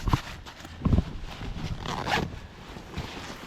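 A zipper on a pocket of a 55-litre backpack is pulled in a few short, close rasping strokes, with brief pauses between them and no speech.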